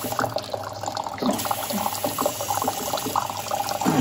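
Water rinsing a bandsaw during a self-cleaning setup, a steady splashing and trickling flow with small drips and gurgles, fairly close and without talk.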